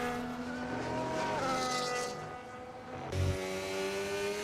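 Open-wheel F2 race car engine whining with harmonic pitch sweeps through a chicane in a racing video game, ending in a brief low thump as the brakes lock up, loud and steady with no talk.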